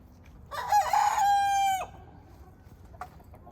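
A rooster crows once, loud and close, from a backyard chicken coop and pen set around an old raspberry bush, followed by quiet with a faint cluck.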